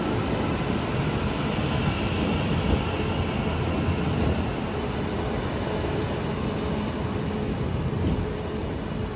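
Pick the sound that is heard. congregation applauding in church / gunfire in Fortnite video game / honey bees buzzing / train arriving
train arriving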